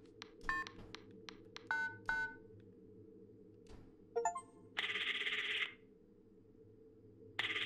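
Telephone keypad tones in a video game: a quick run of short dialing beeps, then a few brief electronic chirps and a longer sustained tone, against a low steady ambient hum.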